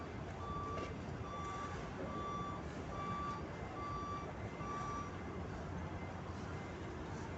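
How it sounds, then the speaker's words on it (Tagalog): A loaded truck backs off a barge, its reversing alarm sounding steady regular beeps over a constant rumble of engine and surroundings, with no talk. "hindi kasi makita ng driver kung anong gagawin niya pag patras eh"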